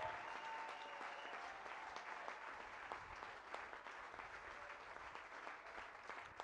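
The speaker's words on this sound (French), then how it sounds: "Acclame pour Jésus, s'il te plaît." A church congregation applauds for Jesus during a worship service, with a steady, dense wash of clapping from many hands that carries on without a break, heard from a distance and fairly faint.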